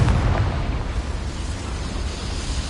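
A Confringo fire spell blasts in Hogwarts Legacy, a loud, deep boom that rolls into a continuous rumbling roar lasting several seconds, heard alone.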